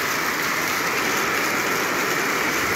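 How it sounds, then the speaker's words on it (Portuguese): Steady rain falls over the municipality of Taperoá, a dense, even hiss of drops under an overcast sky, continuous and fairly loud throughout with no voices. "Chuva no meu Taperuá, obrigado Senhor, pelas bênçãos das chuvas"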